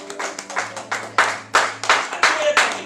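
A church congregation claps for the Lord in a few scattered, uneven bursts of hand claps at close range, with a low steady hum running underneath.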